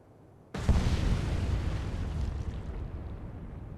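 A single heavy torpedo blast strikes a large freighter during a World War II Atlantic convoy battle in a naval video game: a sudden loud boom followed by a long, rumbling roar that slowly fades.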